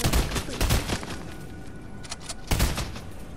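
Gunfire in the video game Fortnite comes as loud bursts of rapid shots at the start and again near the end, with a quieter stretch of sparser fire between them.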